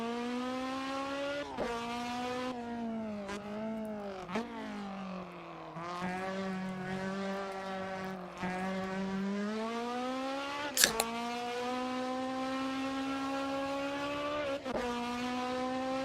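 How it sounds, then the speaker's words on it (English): A Jays Racing S2000 engine whines in a racing video game, its high revs rising and falling repeatedly with quick throttle blips on downshifts, continuous and fairly close, with no talking. "I think that's the Jays Racing S2000."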